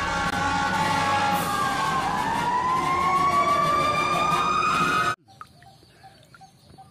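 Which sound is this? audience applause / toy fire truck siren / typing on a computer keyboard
toy fire truck siren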